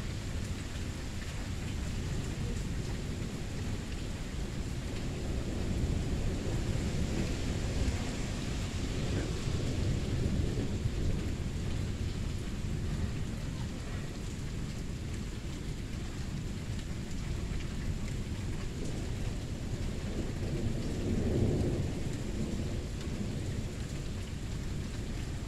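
A nighttime thunderstorm with steady heavy rain pouring down and low rolling rumbles of thunder, the loudest swell coming late, continuous and close throughout.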